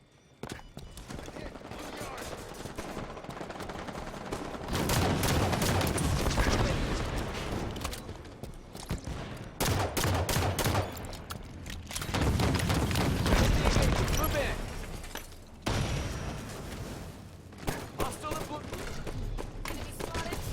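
Gunfire and combat noise from the video game Halo 5 form a dense, loud wash of rapid shots and booms that swells and fades in waves. Brief near-silent gaps break it up.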